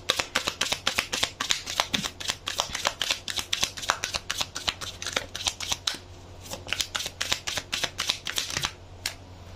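Tarot cards are shuffled close up in quick, crisp riffling bursts, a steady flurry of papery flicks with a brief pause partway through.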